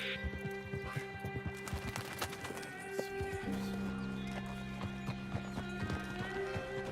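A horse's hooves clip-clop in a steady rhythm in Red Dead Redemption 2, with a whinny and tonal game music layered over the scene.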